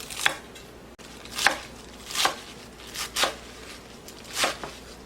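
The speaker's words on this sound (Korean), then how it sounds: "고추는 두 개 정도만 썰어줄게요" A knife slices green chili peppers on a cutting board for an acorn jelly salad: about six crisp, separate cuts at an uneven pace, close and clear with no talking.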